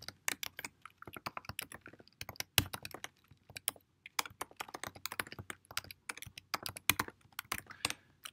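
Close, fairly quiet typing on a computer keyboard while signing in to a Google account, with rapid irregular bursts of key clicks and short pauses throughout.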